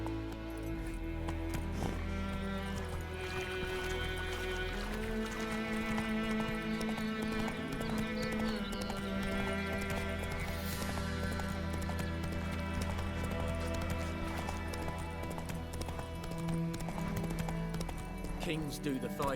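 Roach the horse's hooves clip-clopping in The Witcher 3, a steady trotting beat over continuous game music and voices.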